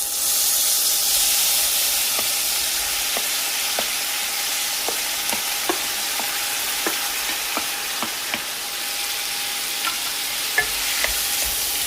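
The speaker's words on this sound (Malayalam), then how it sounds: "അതിലേക്ക് അരിഞ്ഞ് വെച്ചിരിക്കുന്ന തക്കാളിപ്പഴം ചേർക്കാം." Chopped tomatoes frying in hot sesame oil in a pan, a steady loud sizzle and hiss with scattered light pops and stirring scrapes throughout.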